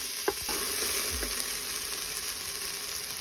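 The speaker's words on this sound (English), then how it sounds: "Saute this on the hot setting for like a couple of minutes." Food sautés on a hot stovetop setting with a constant close hiss and crackle, and a couple of brief utensil taps near the start.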